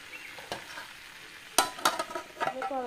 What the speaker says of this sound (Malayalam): ഞാൻ ഒന്ന് തുറന്ന് ഇളക്കി കൊടുത്താണ് കേട്ടോ.